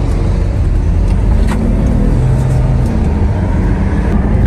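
A V12 Ferrari pulls away from a stop, its engine a loud, close, steady rumble with road noise that holds evenly through the short stretch, with no voices.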